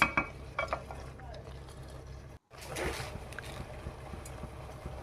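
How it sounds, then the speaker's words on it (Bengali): Chicken cooked oil-free in a pan over low flame, stirred with a spoon, giving soft scraping and faint sizzling under a steady background hum, briefly cut to silence midway. "দেখুন ভালো করে আমি নাড়িয়ে চাড়িয়ে কষিয়ে নিচ্ছি"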